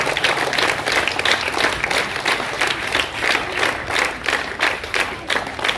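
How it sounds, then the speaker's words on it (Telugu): An audience applauds kho-kho prize winners at an outdoor prize distribution, producing dense, steady clapping from a crowd that carries on without a break. "అందరు గట్టిగా క్లాప్స్ ఇవ్వండి"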